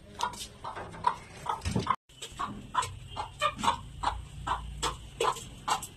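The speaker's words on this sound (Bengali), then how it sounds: "এই যে রেশনের চাল আমরা এনে রাখি, এই চালগুলোই কিন্তু মুরগিকে খাওয়াই।" Farm chickens, hens fed on rice, give repeated short clucks in a steady rhythm at close range, with a brief break near the start.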